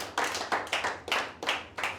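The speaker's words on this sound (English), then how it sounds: "So let's all clap for Prabhal" At a public speaking training session in Hyderabad, listeners clap for a speaker's final-day presentation. Six crisp, evenly spaced claps come at a steady, moderate pace, fairly quiet and without talk.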